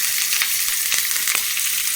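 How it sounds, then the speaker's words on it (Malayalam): Chopped onions fry in oil in a clay pot, giving a dense, steady sizzle that fills the whole stretch, with a few soft knocks as they are stirred. "നമുക്ക് ഉള്ളി മൂപ്പിച്ചൊഴിക്കാം ഇവിടെ ചട്ടി വെച്ചിട്ടുണ്ട് ഉള്ളി അരിഞ്ഞ് വെച്ചിട്ടുണ്ട് അതിട്ട് കൊടുക്കാം"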